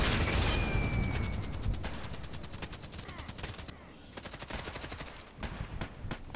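Video game gunfire rings out as rapid, evenly spaced shots in long bursts, loud at first, then thinning out, with short gaps before a few final shots.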